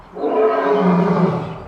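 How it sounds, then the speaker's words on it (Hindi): A real adult male lion roaring, close and loud: a single deep, throaty roar that swells and fades within about two seconds, with no other sounds. "एक असली मर्द शेर की आवाज रियल लाइफ में ऐसी होती है।"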